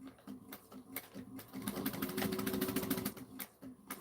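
A sewing machine chain-stitches tote bag lining and facing seams in short bursts, faint and close, with steady whirring stretches broken by brief pauses.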